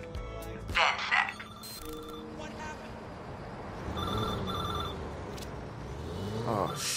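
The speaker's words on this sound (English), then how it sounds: "I found a payphone with some hardware attached to it. It just started ringing" A ringing payphone rigged with hardware in the Watch Dogs 2 video game, heard as repeated electronic bell tones over street traffic and other game sounds, with voices present.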